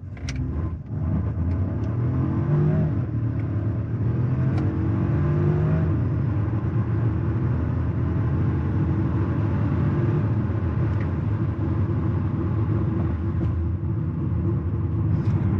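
A Volvo XC40 T5 with 262 horsepower accelerates hard, its engine note rising in pitch under a steady loud cabin rumble of road and tyre noise, with no talk.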